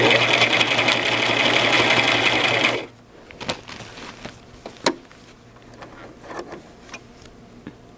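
A Brother LX 3817 sewing machine runs in one steady, loud, continuous burst of stitching for about three seconds, then stops, leaving faint clicks and handling taps of pins and fabric at a kitchen sewing table.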